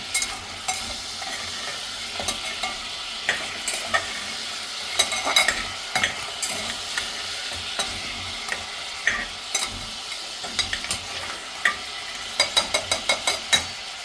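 Food sautéing in mutton fat oil in a pan makes a sizzling hiss, broken by repeated sharp scraping and tapping clicks from stirring, with bursts of several quick clatters near the end.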